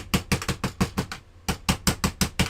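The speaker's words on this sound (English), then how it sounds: "Sorry about the banging." A hard plastic screwdriver bangs on plastic MEGABLOKS building blocks while a Star Trek Enterprise model is assembled, about a dozen close, sharp knocks in quick rhythmic runs with one short pause, and no talk.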